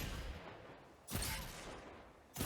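Gunfire in Destiny 2 PvP from the Thorn hand cannon, two sharp, punchy shots about a second apart, each decaying into a brief echo at fairly low volume.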